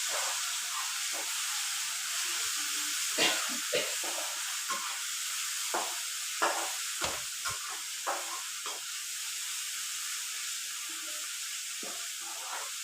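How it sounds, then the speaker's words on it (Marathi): Green chili and garlic, pounded in a mortar, sizzle and hiss steadily in hot oil with onion for egg bhurji, with scattered spatula scrapes and clicks over a continuous close frying hiss. "हिरवी मिरची आणि लसूण जे खलबाट्यामध्ये बारीक केलं होतं ते त्यामध्ये टाकून चांगल्या प्रकारे परतून येणार आहे"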